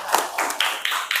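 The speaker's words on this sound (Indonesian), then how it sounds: "tepuk tangan untuk kita semuanya" Second-grade schoolchildren in a classroom clap together briefly, a quick run of sharp claps close by, a few distinct beats over about a second.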